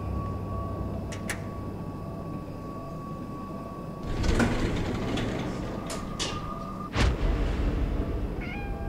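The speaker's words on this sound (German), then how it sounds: "Eine Katze." A cat meows in the horror video game Conarium, two faint high cries early on, then louder eerie strained wails over a low rumbling ambient drone and a sliding, rail-like scrape.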